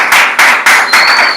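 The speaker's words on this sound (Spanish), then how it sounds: "Brinden un aplauso al Señor." Church congregation clapping together during a Spanish-language service, four strong rhythmic waves of applause, loud and close, with no voices over it.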